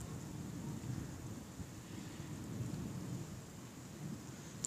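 Thunder rolls low and continuous through a violent autumn storm near Carpentras, France, with steady rain hiss beneath it and no voices.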